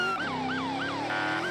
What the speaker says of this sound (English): Oh, lights and siren.